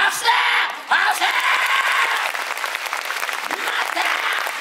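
A live audience applauds at the Universal Monster Live Rock and Roll Show at Universal Studios Japan, with steady, dense clapping from a large crowd that carries on throughout at a fairly loud level, alongside some speech.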